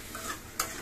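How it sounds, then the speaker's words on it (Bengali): Dried fish (shutki) stir-frying in a pan with radish and potato, a soft steady sizzle with a sharp clatter of stirring near the end; brief and close. "মূলা আলু দিয়ে দেখো শুটকিটা, এই যে কষবে এখন, দিয়ে দিলাম।"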